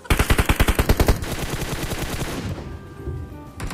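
Video game gunfire: a fast, loud burst of repeated rounds in an even rhythm, giving way to a dense rattling wash of sound that fades, then a final short burst.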